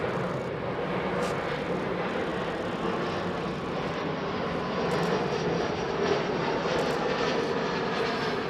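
Heavy jet airliner taxiing toward the runway at Frankfurt Airport, a loud, steady engine roar and whine sustained throughout with no talk.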